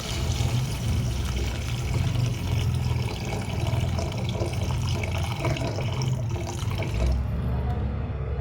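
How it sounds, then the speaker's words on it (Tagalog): Water poured into a cooking pot of Filipino afritada with tomatoes, a steady full rush and splash that runs continuously for several seconds, then eases slightly near the end. "ilagay na po natin ang kanyang tubig"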